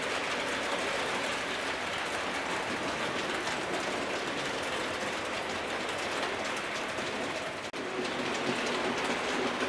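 A small model train, an Adams Radial locomotive, runs steadily along a layout track, a continuous whirring rattle with faint clicking, no voices.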